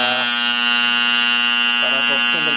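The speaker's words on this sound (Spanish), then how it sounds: "Esta es la alarma" A convection oven's baking alarm beeps as a continuous, loud electronic tone that holds steady throughout, with brief speech breaking in near the end.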